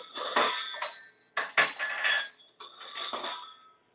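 Metal whisk attachment from a KitchenAid stand mixer clinking and rattling against dishware in a kitchen, three bright clusters of close, fairly loud metallic chinks with short pauses between them, no talking.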